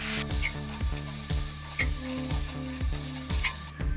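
Tomato and garlic paste frying with onions in a pan, a steady close sizzle broken by repeated stirring scrapes of a spoon against the pan, with no voice.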